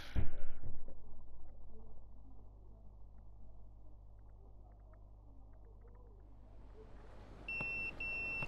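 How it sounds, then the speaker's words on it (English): In the Yakuza 0 video game, a quiet hum and soft background ambience lead into a pager's sharp electronic beeping, which sounds briefly and clearly at the very end. "That's my beeper."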